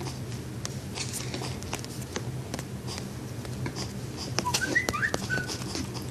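Thin whistling tones in short bursts and glides come from a malfunctioning tablet, sounding alongside scattered taps and clicks over a low background hum.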